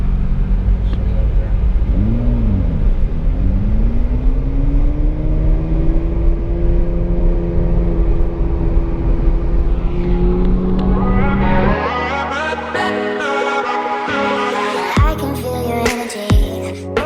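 A 600HP Nissan GTR R32 engine runs loud and steady with harmonic tones rising and falling as the car drives by, then the sound turns busier and more broken in the last few seconds.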